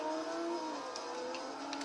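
A Toyota Supra race car driven in Forza Horizon 4, a faint steady engine whine with a shifting pitch for under two seconds, distant and alone.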